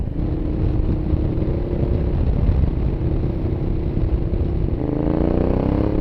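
Ducati Diavel motorcycle engine on the gas, a loud continuous rumbling drone that holds steady and then climbs in pitch near the end, close up with no talking.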